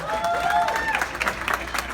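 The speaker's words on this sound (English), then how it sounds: "Can we give this man a round of applause?" Scattered applause and crowd noise rise at a theatre's grand reopening, greeting a builder from a construction firm in a short, fairly faint burst with a few tonal whistles or voices mixed in.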